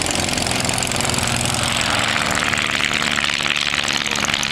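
Small airplane in flight, a loud, steady propeller-engine drone heard from inside the cabin throughout, with no voices.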